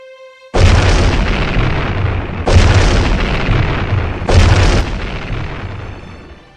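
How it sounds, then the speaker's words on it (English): A volley of gunshots fired in a city: three loud, heavy booming bursts, each followed by a long rumbling decay, spaced about two seconds apart. "The very moment the shots were fired"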